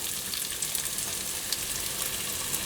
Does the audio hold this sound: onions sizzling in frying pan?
yes